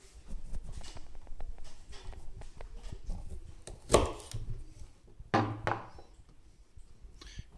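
A knife cuts through a ginger root with soft, irregular scraping and tapping on a board, then two sharper, louder chops a second or so apart.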